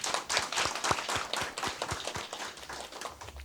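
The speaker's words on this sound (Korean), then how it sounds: "이분들 위해서 박수 한번 보내주시죠." Scattered audience clapping at a Korean safety training event, a moderate round of separate hand claps in an irregular rhythm that thins out toward the end.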